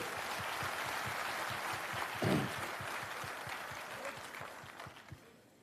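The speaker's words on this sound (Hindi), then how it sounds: "अपने लिए जोरदार ताली बजाइए।" Clapping from an audience at a Jan Suraaj digital wing state-level meeting in Patna, heard faint and distant as a steady patter that gradually fades out near the end.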